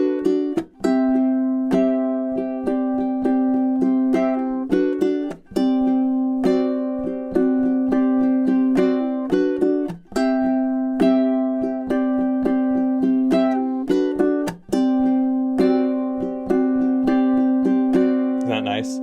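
A ukulele plays measures 21 through 24 of a piece with the repeat at full speed: bright, clear plucked notes and chords in an even, flowing rhythm, close and alone.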